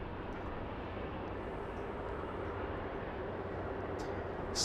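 A British Airways Airbus A350-1000 airliner lines up slowly on the runway at Los Angeles International Airport, its engines giving a steady, distant, even roar that holds throughout with no voices.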